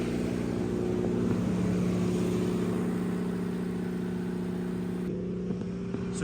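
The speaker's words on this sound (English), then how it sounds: "So you can see the generator is running" A high school's backup generator runs during a power outage, heard from inside a loud mechanical room as a steady droning engine with strong low tonal hum and broadband roar, unbroken throughout.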